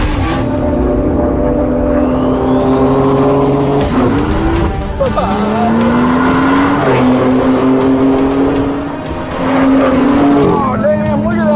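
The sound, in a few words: BMW M2 racing on track, tires squealing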